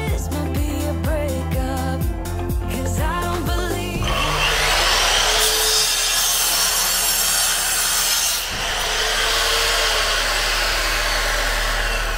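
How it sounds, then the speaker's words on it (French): A power jigsaw with a 100 mm blade buzzes loudly through wood, starting with rapid choppy strokes and settling into a continuous rasping cut that runs on to the end. "je prends la scie sauteuse avec une lame qui fait 100 mm"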